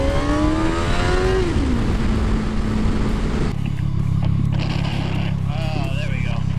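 A car engine revs and climbs in pitch as the driver pulls out, then drops to a lower drone, loud and close, with road noise and other sounds taking over in the second half.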